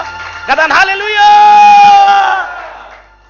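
A church congregation at a Good Friday service shouts together in loud, massed voices that surge, hold steady for over a second, then fade away.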